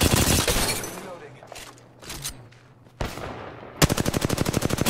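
Apex Legends gunfire: bursts of rapid automatic fire with sharp cracks, a dense volley at the start, scattered shots in the middle, then a fast rhythmic string of rounds at the end, loud and close.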